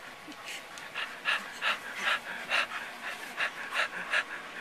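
A Wheaten Terrier pants after a bath, about a dozen quick rhythmic breaths close by, fairly faint, with no one speaking.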